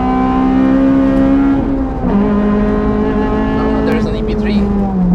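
A Honda Civic FD2 Type R on the Nürburgring, its engine droning loud and steady at high revs with a brief dip in pitch as it shifts, heard from inside the car.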